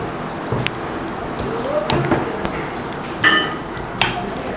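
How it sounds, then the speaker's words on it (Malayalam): A spoon mixing beaten eggs into plum cake batter in a bowl, soft stirring scrapes with a few light clinks against the bowl, close and fairly loud. "ഇനി ഇതിലേക്ക് നമ്മൾ അടിച്ചു വെച്ചിരിക്കുന്ന മുട്ട കുറേശ്ശെയായിട്ട് ചേർത്ത് മിക്സ് ചെയ്തെടുക്കാം."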